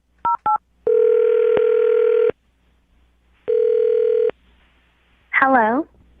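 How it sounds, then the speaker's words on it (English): Touch-tone telephone dialing for a radio show call: two quick beeps, then two long dual-tone notes separated by a pause, followed by a brief warbling voice sound. "I'm going to dial her phone number right now"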